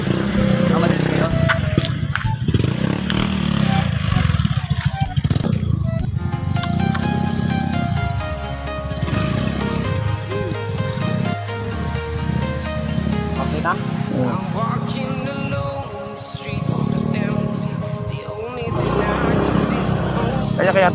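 A motorcycle engine running on a farm road, its uneven revving putter rising and falling under frequent conversation between people nearby.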